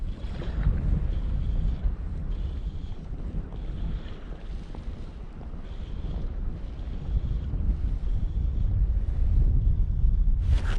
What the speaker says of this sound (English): within the last maybe 10 minutes the wind has picked up a bunch